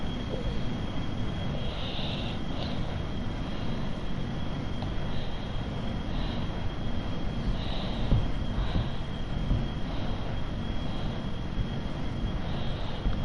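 Plane engine in the video game Kerbal Space Program, a constant droning roar with a thin high whine, steady and unbroken throughout, with no voices.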